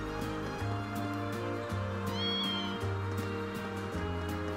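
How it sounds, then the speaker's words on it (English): A cat meowing in the video game Trails of Cold Steel, a short, clear mew that rises above a steady looping music bed and ambient tones. "Meow."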